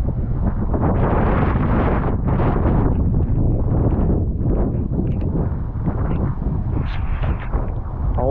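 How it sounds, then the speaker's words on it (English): Strong wind buffets outdoors on a steep cobbled street, a loud continuous roar with heavy rumbling gusts across the whole stretch and no clear talk. "Pretty windy down here, guys."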